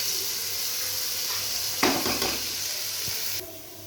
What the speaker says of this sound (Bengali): তেলটা গরম হয়ে গেছে, এবার ডালগুলো আমি দিয়ে দেব। একটু ভালো করে ভেজে নিতে হবে।